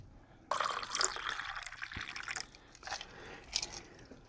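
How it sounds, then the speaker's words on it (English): Tequila poured into a homemade shot glass carved from cucumber, a splashy liquid stream starting abruptly and running for a few seconds with small drips and trickles, close and fairly quiet, no talking. "Take your tequila, pour it into the shot glass."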